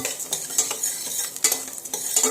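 Ada rice flakes fried in a pan for a quick birthday payasam, with a spoon scraping and clinking against the pan in irregular strokes over a light, close sizzle.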